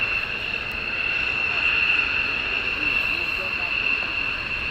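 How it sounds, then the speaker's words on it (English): An F-15E fighter jet holding on the runway at RAF Lakenheath, its engines giving a steady sustained whine and roar at a distance, with a voice speaking over it. "And Douglas Tan, very incredible looking F15E from SJs, yes indeed."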